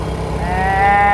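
A cow on a road in Nepal moos nearby, one drawn-out low call that swells louder as it goes.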